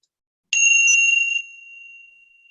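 A single clear bell strike rings out after a moment of silence, then its bright tone fades away slowly.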